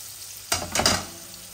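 Fried fish shifted in a pan after the gas has been turned off, giving a short burst of scraping sizzle with a couple of crackling spikes that quickly fade to quiet.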